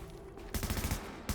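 Video game gunfire bursts in abruptly as a rapid automatic stream of shots, loud and close, running for under a second before a short pause and another burst.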